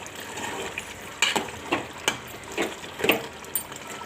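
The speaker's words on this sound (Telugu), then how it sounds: "చికెన్ అయితే ఉడికిపోతుంది" Chicken simmers in a pan, a steady low bubbling and sizzling broken by several soft stirring knocks and scrapes at uneven intervals.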